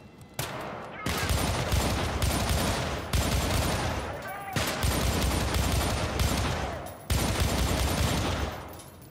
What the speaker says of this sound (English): Well, he's just strafing over there